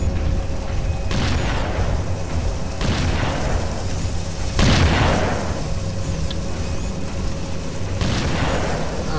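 Rocket explosions in the shooter game Unreal 2: The Awakening, loud booming blasts arriving every couple of seconds over a constant roar of rumbling combat noise, with no talk.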